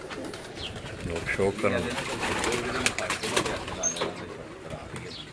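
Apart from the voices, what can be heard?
pigeons cooing on a rooftop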